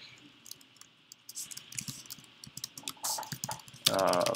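Computer keyboard typing as code is entered, a quiet run of uneven key clicks that picks up in the second half, ending in a louder burst of sound.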